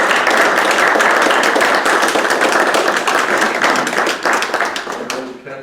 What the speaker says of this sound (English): And I think we ought to give Councilman Gates a round of applause